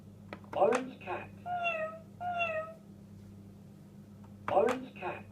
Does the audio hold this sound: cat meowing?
yes